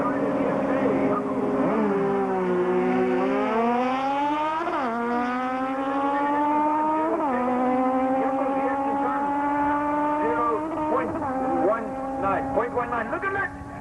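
Drag racing motorcycles launch down the strip at a Tarlton meeting in 1997, their engines roaring and climbing in pitch through repeated rising revs, loud and sustained beneath a commentator's running talk.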